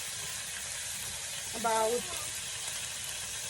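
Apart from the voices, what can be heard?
soy sauce poured into a hot pan, sizzling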